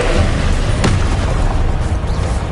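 A loud blast from the Confringo blasting spell, a broad booming roar with a sharp crack near the start, sustained and dense for the whole stretch with no voices.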